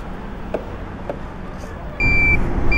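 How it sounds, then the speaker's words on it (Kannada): An Etrance Neo+ electric bike's indicator buzzer sounds while riding, a steady high electronic tone that starts partway through over road and wind rumble, after a few faint ticks. "ಇಂಡಿಕೇಟರ್ಗೆ ನಿಮಗೆ ಬಜರು ಬೈ ಡಿಫಾಲ್ಟ್ ಬರುತ್ತೆ"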